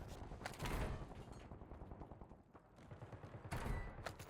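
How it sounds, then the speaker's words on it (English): Distant gunfire in the Warzone shooter game, faint bursts of rapid shots crackling in clusters at the start and end with sparser pops between. "Hear distant gunfire,"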